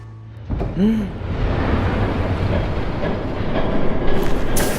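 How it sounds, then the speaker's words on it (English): A train rumbles past in the video game Batman: The Telltale Series, a loud, steady rolling roar with a brief rising whine near the start, building slightly toward the end. "There's a train coming."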